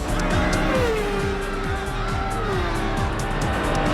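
A race car tears along a track in an animated race, its engine whining steadily and loudly with rapid, repeating surges and some tire squeal, filling the whole span without a break.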